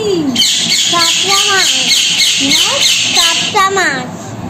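A pet bird makes repeated sliding, whistling calls close by over a steady high background hiss, with several calls spread across the stretch.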